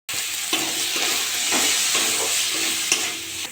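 Ground spices, cumin, coriander, salt and chopped tomato frying in oil with a splash of water in a pan for a bhola fish curry with potato, aubergine and pumpkin, a loud continuous sizzle with intermittent stirring scrapes.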